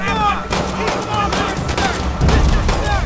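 Machine gun fire in the Call of Duty World at War video game, rapid loud bursts with sharp ricochet-like whines mixed in, continuous throughout a short battle scene.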